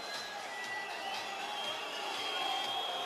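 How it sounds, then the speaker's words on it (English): A packed handball arena crowd at the EHF EURO 2012 final between Norway and Montenegro roars and howls in a steady, dense wash of noise that fills the hall without letup. "Well, the howling from the crowd."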